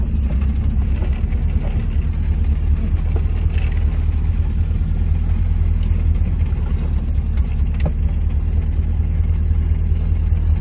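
A car engine, a Volkswagen Voyage, idles and rumbles steadily while pulling over to a stop, a continuous low drone with faint road noise and no talk.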